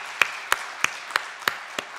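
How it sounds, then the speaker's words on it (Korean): A church congregation claps to welcome a newcomer at a Sunday morning service. The clapping is faint and sparse: six separate claps land at an even, slow pace, each one sharp and brief, with quiet between them. "우리 따뜻한 박수로 환영하겠습니다"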